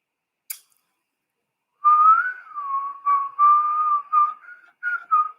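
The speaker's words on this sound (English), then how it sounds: "Sorry for the whistle." A person whistles a wavering tune in a series of short and longer phrases, clear and close, after a brief click; otherwise quiet.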